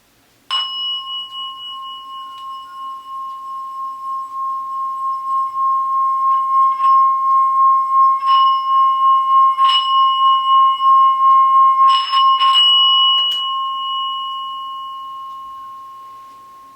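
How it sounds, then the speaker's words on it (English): A meditation singing bowl rings with a steady, pure tone, struck a few more times so bright overtones flare, then the long hum slowly fades. "I'll give you an example of this meditation bowl right now"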